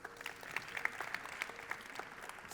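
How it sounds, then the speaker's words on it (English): An audience at a magic show claps in a quiet, distant, steady patter that lasts through the whole short stretch, with no voices over it. "Another round of applause."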